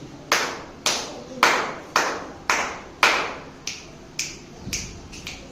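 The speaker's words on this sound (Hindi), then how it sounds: "चुटकी कितनी, ताली कितनी बजी थी?" Children play a counting maths game in a classroom, snapping fingers and clapping hands. About ten sharp, crisp hits come at a steady rhythm, close and clear, with no talk over them.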